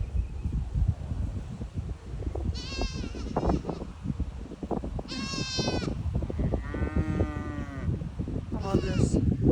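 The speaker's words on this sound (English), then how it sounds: "Hi, cow. Hi, babies. I hear you crying." Cows and their calves bawl on a farm, with several drawn-out, wavering cries rising at intervals over a steady, rough outdoor background.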